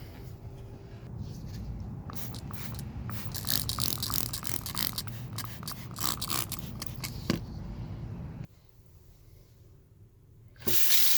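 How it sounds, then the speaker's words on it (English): Repeated hissing spray bursts of cleaner onto an engine air filter from a 2007–2008 Volkswagen Rabbit come in quick succession, mixed with scraping and handling noises, then a quieter pause before another loud burst. "So we'll grab the cleaner and start spraying this down."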